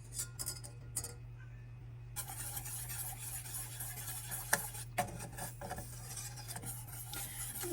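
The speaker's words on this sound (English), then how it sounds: "We have to mix it for a while so that it dissolves into a smooth consistency, chocolatey-like." A spoon stirs cocoa into chocolate cake batter with milk in a bowl, giving soft scraping and swishing strokes over a steady low hum, with a few light clinks against the bowl.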